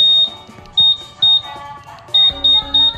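Beep pattern from a keyless alarm fitted to a 2017 Honda Scoopy scooter: a sequence of sharp, loud, high-pitched beeps, three long ones followed by three more in even rhythm, with faint background noise between.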